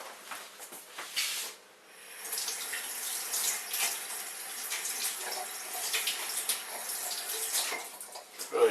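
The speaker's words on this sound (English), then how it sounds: "And wash this with fresh cold water." Cold tap water runs over a printed circuit board being rinsed, a continuous splashing hiss that dips briefly near the start then holds steady, close and fairly quiet, with no talk.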